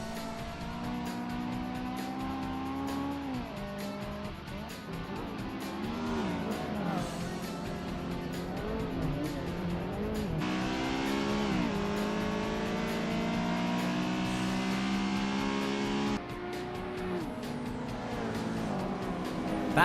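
Racing car engines roar through gear changes in the Assetto Corsa video game, including a Honda Civic, a Subaru Impreza and a Mazda RX-7, with steady loud revving, upshifts and rising pitch sweeps continuing without pause.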